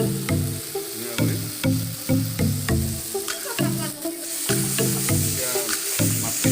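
Fish, local kuchia, frying in a pan with a little water just added: a continuous hiss of sizzling oil with a steady run of low, rhythmic bubbling pulses, close and fairly loud.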